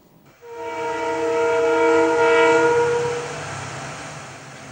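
Kerala Express passenger train on the New Delhi–Thiruvananthapuram route sounds a loud, sustained multi-tone horn blast lasting about three seconds over a low rumble of the train, with no talking.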